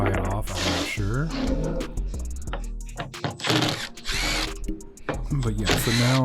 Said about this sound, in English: now I'm just removing the cover, 4 screws that hold this whole cover on